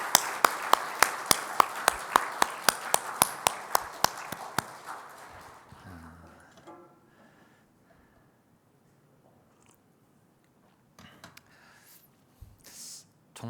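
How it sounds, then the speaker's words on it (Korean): A church congregation at a Hallelujah dedication service claps for God and the choir in a steady, evenly spaced rhythm of sharp claps for about five seconds, then it fades into near quiet with faint stirrings. "다시 한번 영광의 박수 하나님께 그리고 찬양대에게 드릴까요?"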